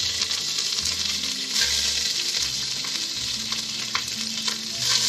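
Curry leaves fry in melted coconut oil in a pan, giving a steady close sizzle with spattering crackles and occasional stirring scrapes, heard alone with no talking.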